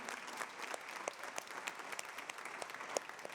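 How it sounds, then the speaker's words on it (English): Faint, distant applause from a spring band concert audience honoring a retiring band director, Mr. Steve Kraus, with steady overlapping claps continuing throughout. "yes, we can applaud"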